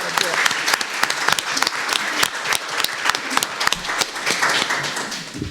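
An audience at a voter turnout discussion applauds, a dense close burst of many hands clapping that stays steady for several seconds, with faint voices mixed underneath.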